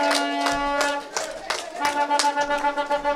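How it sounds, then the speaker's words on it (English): Audience at an outdoor public meeting in Victoria, St. Mark, Grenada, clapping in loose bursts over a sustained musical drone, with a voice talking over the applause. "Give him some more claps, man."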